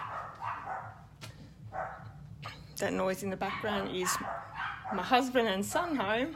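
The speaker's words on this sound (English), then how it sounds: "you can hear the dogs going off" Dogs bark and yip in the background of a home, several sharp barks and whimpers spaced irregularly, while someone talks over them.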